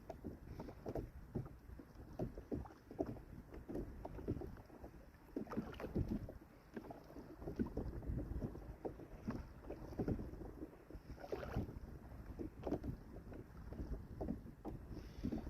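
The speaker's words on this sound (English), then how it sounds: "that wind that's coming through now from behind, that's chilly" Wind gusting over a kayak out at sea, heard as steady rushing microphone buffeting with irregular thumps and water slaps, loud and close throughout, no voices.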